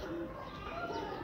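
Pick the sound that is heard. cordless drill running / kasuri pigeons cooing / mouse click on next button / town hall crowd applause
kasuri pigeons cooing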